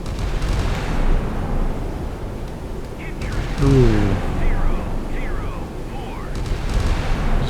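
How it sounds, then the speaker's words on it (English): Steady rumbling naval gunfire and distant explosions from a naval warfare video game fill the background, with a brief exclamation from a voice partway through. "there's a lot of crisscrossing gunfire here right now"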